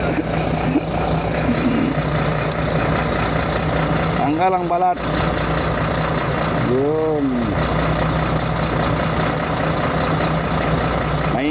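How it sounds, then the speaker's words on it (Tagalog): A loud truck engine idles close by in a steady, heavy drone, with repeated reversing beeps rising over it at intervals while someone talks. "Maingay ang truck, mga master."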